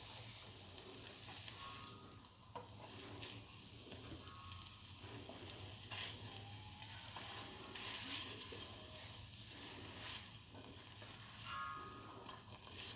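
Soy chunks, fenugreek leaves and curry leaves sautéing in a pan for noodles, giving a steady, soft sizzle with occasional stirring scrapes, and no talk.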